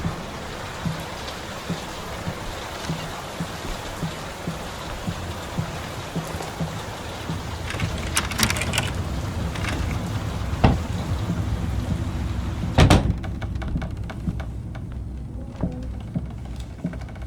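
Video game rain storm: steady rain pours continuously, with a broad hiss and patter of drops; a couple of sharper cracks stand out partway through.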